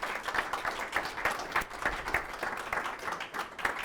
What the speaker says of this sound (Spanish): les pido que le reciban con un aplauso